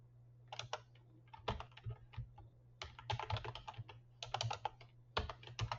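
Rapid bursts of typing on a computer keyboard, with clusters of crisp key clicks separated by short pauses, close and fairly quiet over a steady low hum, no voices.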